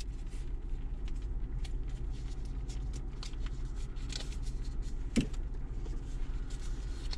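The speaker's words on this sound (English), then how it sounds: "I do have the Bronco running with the temperature turned up" A 2021 Ford Bronco engine idles with the heater turned up, giving a steady low rumble inside the cab, overlaid with small clicks, rustles and handling noises close by.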